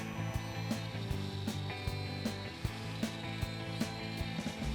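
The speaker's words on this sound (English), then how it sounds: "the machine was carving the circle perfectly" A CNC machine carves a maple Christmas-tree drink coaster, giving a quiet, steady mechanical whine with layered tones, broken by regular sharp ticks and clicks as the bit cuts the wood.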